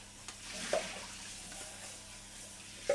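Jasmine rice being rinsed under running cold tap water in a kitchen sink, a steady soft watery rush with a couple of brief sharper splashes or knocks.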